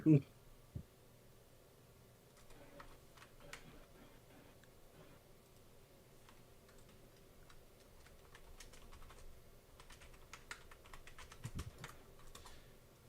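Quick, irregular clicking of fingers typing on a computer keyboard, in bursts that grow busier toward the end, with faint voices in the background.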